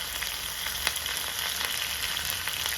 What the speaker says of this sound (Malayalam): അല്പം വെളിച്ചെണ്ണ ഒഴിച്ചു കൊടുത്തിട്ടുണ്ട് ഇതിലേക്ക് ഒരു ടീസ്പൂൺ കടുക് ഇട്ട് കൊടുക്കാം